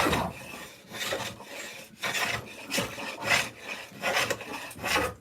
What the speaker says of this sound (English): my favorite part of using a draw knife, which is this right here, is the shavings that come off